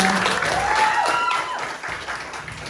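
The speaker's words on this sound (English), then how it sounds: "I think he deserves a round of applause for that" Studio audience applause at a Welsh talent search show, a steady wash of clapping at moderate level for a couple of seconds, with a tonal musical or vocal line gliding over it before the clapping thins out.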